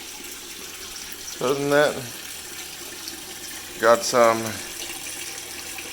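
Water runs steadily into an aquaponic tank to raise its level, a constant wash of flow under a voice as he talks in two short bursts.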